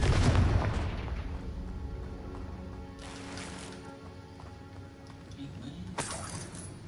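A Confringo blasting curse explodes in the Hogwarts Legacy video game: a heavy boom at the start that decays into a long rumbling tail, with a sharp second burst near the end.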